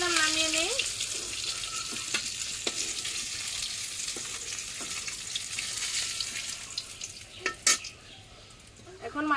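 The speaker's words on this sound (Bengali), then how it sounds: "মাছগুলি ভেজে নিলাম, নামিয়ে নিই।" Fish frying in hot oil give a continuous bright sizzle with scattered stirring clatters and a brief voice at the start, heard close but at moderate level.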